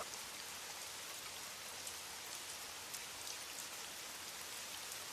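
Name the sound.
rain sound effect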